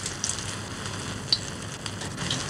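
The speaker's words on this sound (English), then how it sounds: "you take your time and be comfortable when you deep fry vegetables" Aubergines deep fry in hot oil, giving a steady soft sizzle with faint crackles and a few small pops, moderately close and with no talk.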